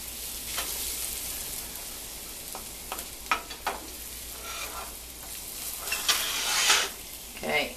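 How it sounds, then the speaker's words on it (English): Garlic crisps in a frying pan with a soft, steady sizzle, broken by a few scattered light clicks and scrapes of utensils, fairly quiet and close with no talk. "Your garlic's crisping up."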